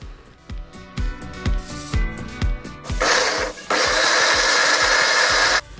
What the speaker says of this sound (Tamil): ஊற வச்சிருக்க காஞ்ச மிளகாவோட தண்ணியை வடிகட்டிட்டு வெறும் காஞ்ச மிளகாவை மட்டும் போட்டு மிக்சியில் நல்லா விழுதா அரைச்சி எடுத்துக்கலாம்.